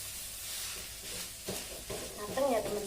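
Javanese fried rice stirred in a pan, a steady frying sizzle with scraping stir strokes growing louder toward the end, close and continuous.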